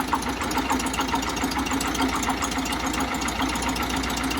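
A 1969 Volkswagen Bus air-cooled engine fitted with electronic ignition idles steadily up close, a continuous even rumble with a fine rhythmic ticking running through it.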